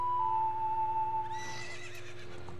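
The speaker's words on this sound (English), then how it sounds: "She's all grown up into a horse now, too." Epona the horse neighs in the Nintendo 64 game The Legend of Zelda: Ocarina of Time, a single loud, clear whinny with a rising and falling pitch, heard alone over steady game music.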